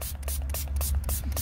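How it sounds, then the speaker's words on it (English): Quick repeated spritzes from a spray bottle of soapy water, used for wet tint application on a 2022 Subaru BRZ, about a dozen short hissing bursts in an uneven rhythm, close up. "Spray it in there. We're gonna spray the back side as well."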